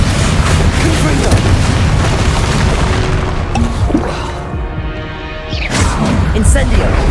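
Repeated booming spell blasts from Confringo fire magic in Hogwarts Legacy, loud and dense over continuous game noise, with a brief lull before the bursts resume.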